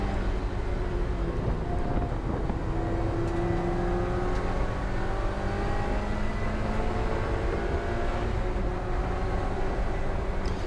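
A race car engine at full throttle on the Brands Hatch GP circuit during a trackday trophy race, a loud droning roar heard from on board that rises and falls in pitch through gear changes and corners without letting up.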